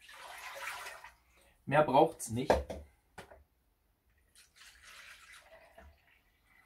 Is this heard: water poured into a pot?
yes